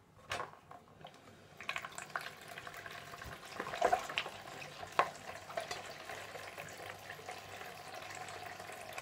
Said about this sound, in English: I'm washing the bowl and spoon.